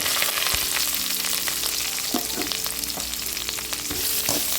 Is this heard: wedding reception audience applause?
no